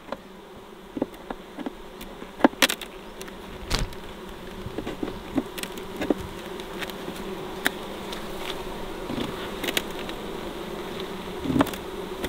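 Honey bees hum and buzz steadily around an opened beehive, a continuous close drone with individual bees whizzing past, punctuated by occasional clicks and knocks from handling the hive, with no talk.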